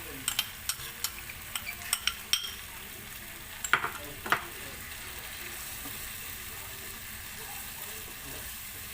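Yogurt mixture cooking into a tomato-based fish biryani masala in a pan, with a steady soft sizzle and a run of clicking stirring taps in the first few seconds, then a quieter simmer.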